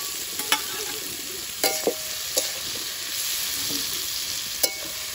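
Sliced onions fry in hot oil into crisp birista for biryani, a steady soft sizzle with a few sharp clinks and scrapes of a stirring spoon against the pan.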